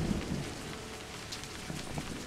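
Steady rain falls in the Scottish Highlands setting of A Highland Song video game. The dense, continuous patter holds at an even level, with a low rumble underneath and no talking.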